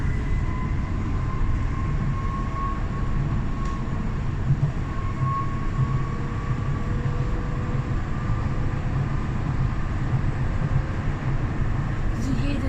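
A Docklands Light Railway train runs through a tunnel between Stratford and Canary Wharf, giving a continuous loud rumble with wheel and motor whine throughout and no clear talk.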